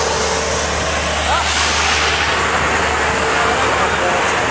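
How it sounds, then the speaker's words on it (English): A noisy lorry drives along a road near Batur Mountain, a volcano beside Batur Lake, making a loud, constant rumbling roar with broad road noise that fills the whole stretch. "That's the lorry. It's very noisy."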